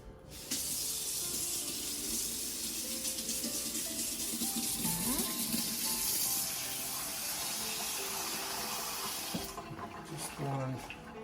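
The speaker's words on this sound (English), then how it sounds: "I'm going to get some hot water covering our chilies" A continuous rush of hot water poured over dried árbol chilies runs for several seconds, steady and close, then stops, with a few clinks and faint sounds after.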